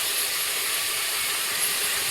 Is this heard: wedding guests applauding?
no